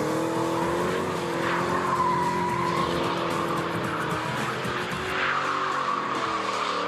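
A drift car in a drift competition slides around the track, its engine roaring loudly while the tires squeal in long, wavering screeches that rise and fall through the run.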